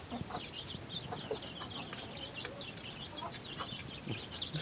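Several chickens cluck steadily behind a wire mesh fence where a mother hen and her chicks reach through, soft and continuous at moderate distance amid constant outdoor background noise.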